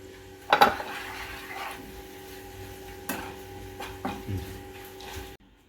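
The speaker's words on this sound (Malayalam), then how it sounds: "നന്നായി ഇളക്കുക." Chili, turmeric and coriander powder stirred in a pan, with a few distinct scrapes and knocks of a spoon against metal spaced a second or so apart over a quiet background.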